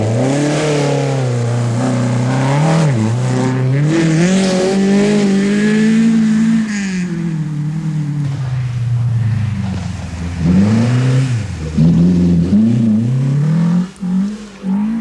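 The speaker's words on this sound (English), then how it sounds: "Chris Berry slips and slides his way over." Chris Berry's rally car, in the 1983 NSW Rally Championship, slips and slides across a narrow bridge in muddy forest. The engine revs hard and loud, surging and falling with bursts of throttle and wheelspin.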